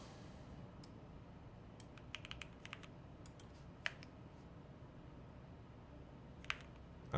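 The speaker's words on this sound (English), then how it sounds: "I'm just typing in a whole bunch of junk at this point." Someone types on a computer keyboard, giving faint, irregular key clicks in small bursts with a few louder taps over a low, steady room hum.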